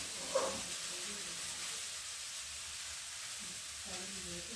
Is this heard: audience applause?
no